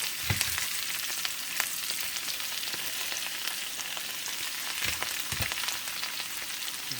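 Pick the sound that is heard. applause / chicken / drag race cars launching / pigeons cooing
chicken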